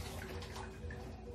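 A new swivel kitchen faucet runs water into the sink, a faint steady hiss and splash that holds evenly throughout with no talking.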